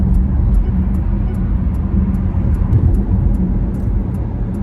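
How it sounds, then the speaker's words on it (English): Steady road traffic rumbles outdoors in the early afternoon, a continuous loud low drone of passing vehicles with no clear gaps between them. "There is some traffic out here, and it's after lunch."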